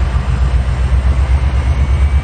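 An AH-64 Apache helicopter engine spooling up in the military game Arma 3, a loud, steady low rumble with a pulsing beat and a faint high whine above it, with no talk.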